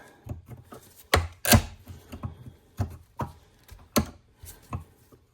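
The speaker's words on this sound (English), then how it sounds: "Tighten that vise up." A bench vise being tightened on a rusty u-joint from a 2004 Jeep Grand Cherokee WJ: irregular metallic clicks, knocks and ratcheting scrapes, close and fairly quiet, with a few sharper clanks scattered across the stretch.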